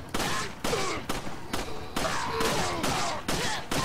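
Repeated gunfire bursts in the video game Resident Evil 4, several sharp shots spaced through the moment at moderate loudness.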